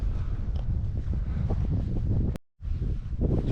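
Strong wind gusts buffet the microphone during a walk through a wild Scottish glen, a loud continuous rumble with a brief dropout near the end.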